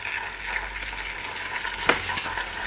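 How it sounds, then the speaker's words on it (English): Cream and butter are stirred into hot caramel sauce just past 170 degrees, giving a close, busy sizzle and bubbling with a few sharp utensil scrapes toward the end, no voices. "along with my 10 grams of butter. I'm going to stir that around."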